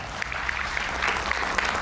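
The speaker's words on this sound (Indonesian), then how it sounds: "Kita berikan tepuk tangan." A studio audience at an Indonesian television talk show breaks into steady applause, a continuous wash of many hands clapping at a fairly loud, even level.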